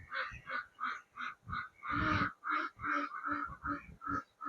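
Ducks on a farm at an agricultural science centre in Jagatsinghpur, quacking in a steady rhythm of repeated calls at close range, with a louder burst of overlapping calls partway through.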